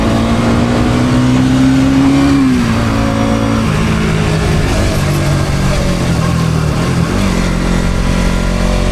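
A motorcycle rides along a newly built road on the way from Pune to Satara. The engine drones loud and close throughout, and its pitch drops as the rider shifts, with wind rushing past.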